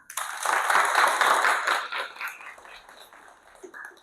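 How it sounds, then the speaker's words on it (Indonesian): A classroom audience at a CPR and first-aid training session applauds, a dense round of clapping that peaks early, then thins and fades over a few seconds. "berikan tepuk tangan"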